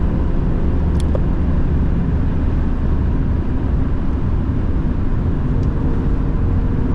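A BMW E36 track car running laps of the Nürburgring in Germany, a steady loud engine and road roar sustained throughout with no pauses or voices.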